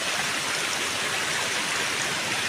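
Water from a small waterfall stream rushes in a steady, even hiss with no pauses, close and fairly loud, and nobody talking.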